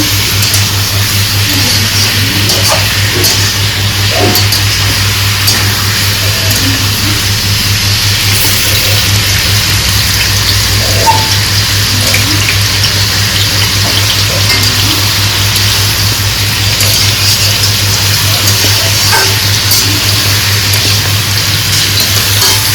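Oil and ghee sizzling in a pan while pulao cooks, a loud, constant hiss with a steady low hum beneath and no talking.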